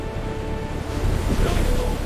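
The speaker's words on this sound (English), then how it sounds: "Waves are rough today." Rough sea surf washes and rumbles continuously at an undersea tunnel construction site, with heavy wind noise buffeting the microphone and no speech.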